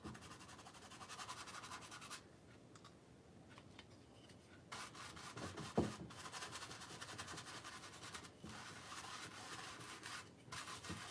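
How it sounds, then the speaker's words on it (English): A stiff bristle brush scrubs paint onto canvas outdoors with soft, rhythmic rasping strokes, faint and close, with a few short pauses between passes. "That's why I like these stiff bristles, because you can basically scrub the paint into it."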